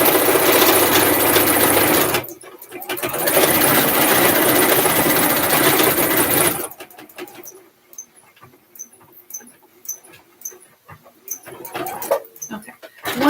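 A home sewing machine stitches a half-inch fabric seam with a backstitch at the start, a loud steady motor run lasting a few seconds, a brief pause, another run, then quieter handling clicks and taps.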